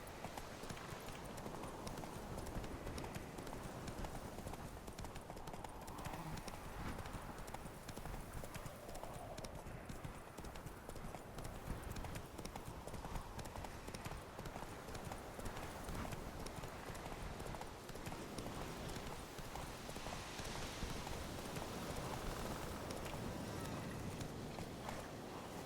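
Horse hooves galloping in the video game The Witcher 3, a steady, dense clip-clop rhythm that carries on throughout under constant outdoor game ambience.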